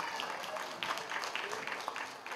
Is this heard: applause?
yes